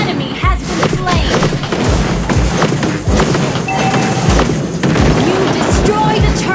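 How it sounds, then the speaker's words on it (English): Enemy turret blowing up in Mobile Legends amid a barrage of deep booms and thuds, loud and close, repeating every second or so over game music and announcer voice. "You destroy the turret."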